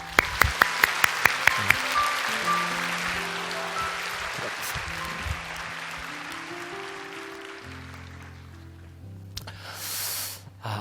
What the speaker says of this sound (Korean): 다시 한번 우리 축복하며 박수하겠습니다